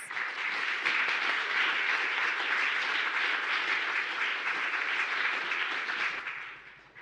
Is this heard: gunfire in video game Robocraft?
no